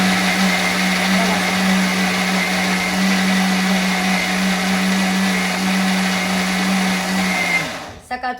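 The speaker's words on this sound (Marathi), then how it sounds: "मग उलटा मिक्सर फिरवायचा" A kitchen mixer grinder whirs steadily at close range while grinding soaked rice and lentil batter for idli and dosa, a loud constant drone that cuts off near the end with a few clunks.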